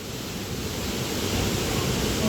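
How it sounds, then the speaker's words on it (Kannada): Water gushes down a waterfall stream in a constant, loud, broadband roar that fills the whole moment without pause. "ಗಟ್ರ ಹರಿದಂಗೆ ಹರಿಯೋದೈತಿ ಕರೆ ನೀರು"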